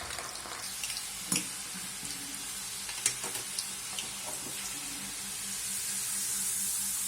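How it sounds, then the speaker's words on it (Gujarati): Steady sizzling of chana dal (split chickpeas) deep frying in hot oil, with occasional clinks of a metal utensil against the pan. "ચાણી મૂકવાની અને એની અંદર દાળ નાખવાની તેલમાં"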